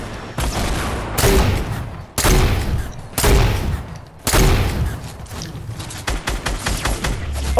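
Rapid bursts of automatic gunfire from a Fortnite Battle Royale match, loud and close, coming in several sustained volleys with brief gaps, ending in a quicker run of separate shots.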